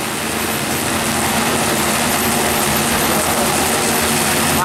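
An agricultural drone with a carbon-fiber frame and propellers flies over a rice field. It makes a loud, steady, close-up engine-like whir with no voices.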